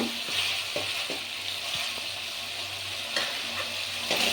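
Tomato with salt and turmeric sizzles in oil as it is sautéed for egg rice, a steady frying hiss broken by several distinct spatula scrapes and taps against the pan.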